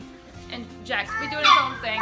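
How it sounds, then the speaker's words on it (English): A puppy barks and yips in short, excited bursts from across the room at home, while someone talks close by over the top. "if you hear barking, that's our puppy over there"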